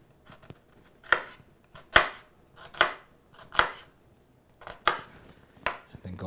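A knife chops through a quarter of a red onion on a cutting board in a raw vegan kitchen, six sharp, evenly spaced dicing thuds ringing out close and clear with short quiet gaps between them.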